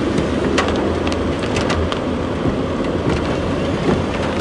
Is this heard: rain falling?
yes